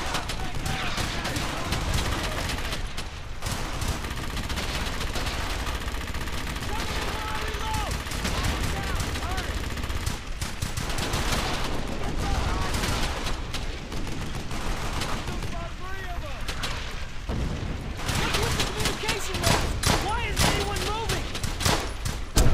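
Continuous battle din from the World War II shooter Brothers In Arms: Hell's Highway, with steady overlapping rifle and machine-gun fire and booms, dense and loud throughout, and voices shouting over the combat.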